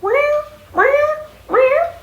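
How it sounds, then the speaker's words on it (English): A house cat meows three times in a steady sequence, each call rising then falling and lasting about half a second, loud and close with short pauses between. "But that's what Gretchen was doing, meowing"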